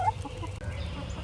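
Chickens clucking softly nearby, a few short murmured calls over low background rumble, no talking.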